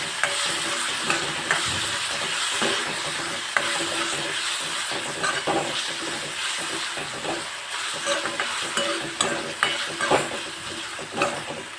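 Finely chopped tomatoes fry in a chili-garlic paste for a Rajasthani moong dal, a close, steady sizzle and crackle with occasional scraping stirs of a spoon in the pan.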